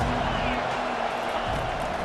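A stadium crowd in a video game football match roars with a steady, continuous wash of cheering and noise that holds an even level across the moment.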